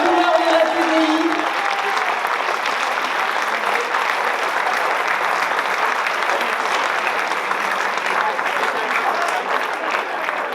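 An audience applauds at an event honoring the makers of a celebration cake, sustained clapping from a crowd that stays loud and steady for the whole stretch.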